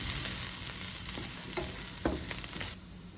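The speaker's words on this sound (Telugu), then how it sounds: "ఇలా వేసుకొని మళ్ళీ ఇదంతా బాగా మిక్స్ అయ్యేదాకా బాగా కలుపుకోవాలి" Potato fry being stirred in a pan after two spoons of coconut chili powder go in, with a soft steady sizzle and a few quiet scraping strokes before the sound cuts off abruptly near the end.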